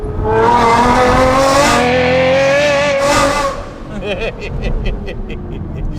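A manual Aston Martin V12 roars loudly as it revs and accelerates, its engine note rising and falling through smooth sustained pulls before backing off into a rough, popping idle.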